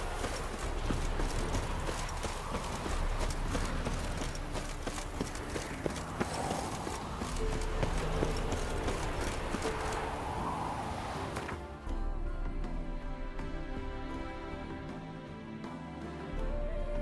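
Horse hooves clip-clop steadily in The Witcher 3, a continuous rhythmic trot over background game ambience, giving way near the end to quieter sound with a sustained tonal hum.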